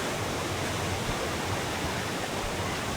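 Steady, dense rush of falling water from Bulawan Falls, a clear-water waterfall, loud and constant throughout with no voices.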